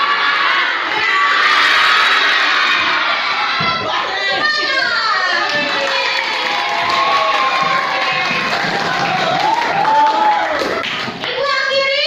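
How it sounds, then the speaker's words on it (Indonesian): Teacher and pupils in a classroom do a lively clapping cheer together, with children shouting and voices chanting over steady, dense claps throughout. "Guru bersama peserta didik melakukan tepuk semangat untuk menumbuhkan keceriaan"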